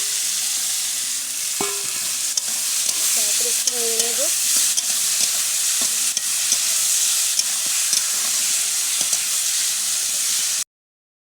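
Potatoes fry in a pan of hot oil for a rui fish curry, a loud close sizzle with occasional stirring scrapes, while someone speaks briefly over it.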